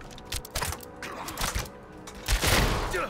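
Gunfire from the Diablo 4 video game comes in a loose string of sharp shots and thumps over a busy, noisy game soundscape, with some shots louder near the end.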